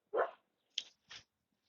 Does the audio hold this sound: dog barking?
yes